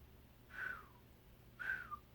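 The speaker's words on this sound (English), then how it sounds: "I was trying to whistle because that was an incredible passage." Two short, breathy whistles made through the lips, each a single airy tone sliding slightly downward, with a brief pause between them.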